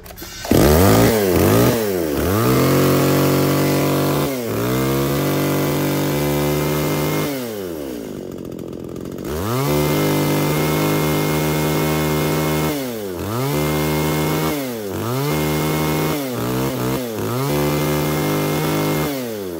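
A Japanese chainsaw engine runs on test, revving loudly up and down in repeated throttle bursts, briefly dropping to a lower note midway before surging again, close by with no speech.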